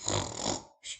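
A voice imitates snoring with a long, breathy rasping exhale, followed by a short pause and a brief second burst.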